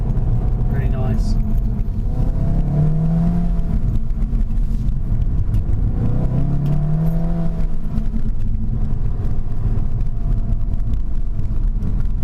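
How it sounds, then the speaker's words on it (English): A SEAT Leon Cupra 300 hot hatch drives with a steady, loud engine drone and road rumble, the pitch rising and falling through gear changes, with talk layered over it. "It makes the right noises."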